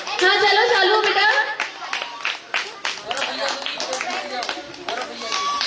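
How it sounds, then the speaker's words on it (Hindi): Children clap their hands at a Jain Paryushan Parv gathering, with many quick claps scattered over one another, close and lively, while an adult voice talks over them. "सब बच्चियां ताली बजाते हैं ना, ताली बजनी चाहिए"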